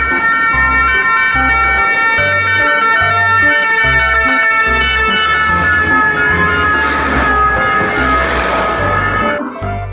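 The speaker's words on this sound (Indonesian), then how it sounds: "Yang ini ada mobil ambulans." Toy ambulance siren wailing loud and close in a repeating electronic two-tone pattern, running continuously for about ten seconds with no talking.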